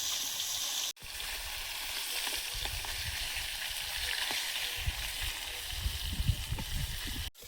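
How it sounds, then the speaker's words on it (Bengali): A large fish sizzling and spitting in hot oil in a wok, a dense continuous frying hiss with bubbling crackles near at hand, briefly cutting out near the start and again at the end. "মাছটা কি ডবল ভাজতে হলো? দুবারে ভাজলাম, বড় মাছ তো একবারে কড়াই হয়নি।"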